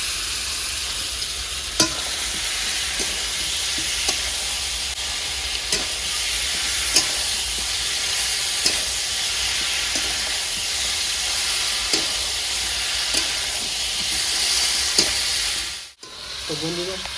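Marinated jackfruit frying in oil with browned onions, a steady bright sizzle with occasional spoon taps against the pan roughly every second or two, a brief dropout near the end, no talk.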